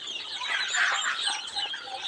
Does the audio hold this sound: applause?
no